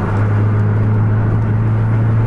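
A bus racing on the road at full throttle produces a loud, steady engine roar with a strong low drone, heard close up with no talk.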